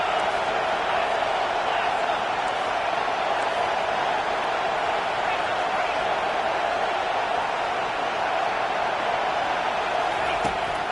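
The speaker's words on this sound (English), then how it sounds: "Decibels rising as the crowd gets behind this defense on third down." Crowd noise in a college football video game, a constant broad roar of a stadium crowd during a third-down defensive stand, steady and fairly loud across the whole stretch without clear peaks.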